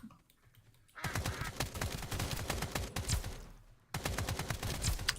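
An AK rifle in a video game fires in short, rapid bursts of sharp close cracks, with a brief pause between two bursts and no talking.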